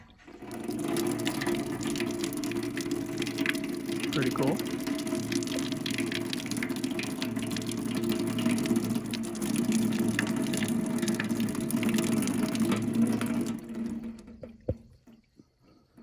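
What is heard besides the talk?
running water flowing at an old pump house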